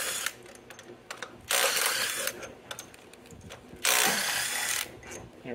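A ratchet backs out 15mm bolts on a Chevrolet Cruze held up by a jack, with two long, fairly close bursts of rapid clicking amid softer scattered tool clatter.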